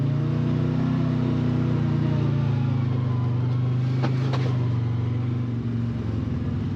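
A 2025 CF Moto Uforce 800 XL UTV driving in low range, its engine droning steadily at a constant low pitch, close and loud, with a brief clatter midway.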